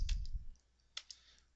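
A computer keyboard key is pressed: two quick, light clicks close to the microphone, heard after a brief low thump in an otherwise quiet room.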